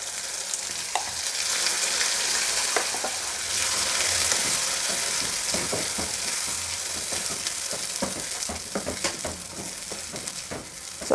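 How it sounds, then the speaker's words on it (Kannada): Ground masala hits a hot tempering of chillies and curry leaves in oil for a tangy saaru, giving a steady close sizzle and frying hiss with occasional scraping stirs throughout. "ಈಗ ರುಬ್ಬಿಟ್ಕೊಂಡಿರೋ ಮಸಾಲೆನ ಈ ಒಗ್ಗರಣೆಯಲ್ಲಿ ಸೇರಿಸ್ತಾ ಇದ್ದೀನಿ"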